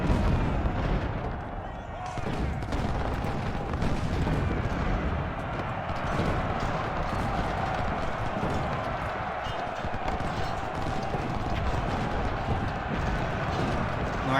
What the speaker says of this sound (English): We can't let them attack our artillery like this.